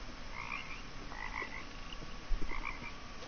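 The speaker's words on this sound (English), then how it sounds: "I hear a frog" Frog croaking in the forest of What Remains of Edith Finch, several short faint croaks in a loose repeating pattern over quiet ambient background, with a soft footstep-like thud.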